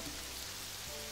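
Steady rain patters on a surface in the visual novel Hands Off My Yandere, a constant, even hiss with no voices over it.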